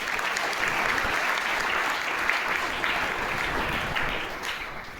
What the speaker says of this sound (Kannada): ಜೋರಾದ ಚಪ್ಪಾಳೆಯೊಂದಿಗೆ ಅಭಿನಂದಿಸಬೇಕು